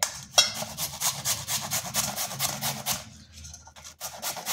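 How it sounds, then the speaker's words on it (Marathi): Pumpkin being grated on a hand grater for pumpkin halwa, heard as a steady run of quick rasping strokes, close and fairly soft, in a regular rhythm that fades out near the end. "किसणीने बारीक करून सर्व एकत्र मी किसून घेते।"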